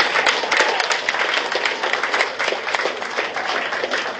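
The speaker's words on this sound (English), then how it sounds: "I think everybody needs to give themselves a round of applause." Applause from a crowd at a health sciences school's 30th anniversary celebration, sustained clapping from many people with an even, busy texture throughout.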